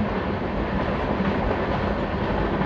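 A Lalkuan–Howrah passenger train running along the tracks between Lalkuan and Puranpur, a steady loud rumble of wheels and carriages with faint rhythmic clatter, heard from on board with no talking.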